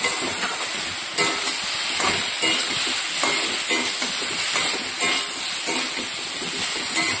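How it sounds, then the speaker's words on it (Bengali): Fried Nutrela soy chunks are stir-fried with squash and potato in a pan, giving a continuous loud sizzle and hiss with scraping stirring strokes at a steady pace, with no voice. "দিয়ে দিলাম ভেজে রাখা নিউট্রেলা। এবার এটার সঙ্গে ভালো করে কষিয়ে নেব।"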